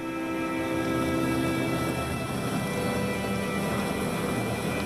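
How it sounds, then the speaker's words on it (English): A medical life-flight helicopter passes overhead, its loud, steady rotor and turbine roar filling the whole stretch without a break. "Must be life flight for sure."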